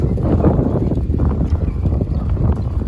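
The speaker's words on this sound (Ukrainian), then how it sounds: "Тепліше не стало 9 градусів і вітер сильний." Strong wind buffets the microphone in a low, continuous rumbling roar with gusty fluctuations, and no voices are heard.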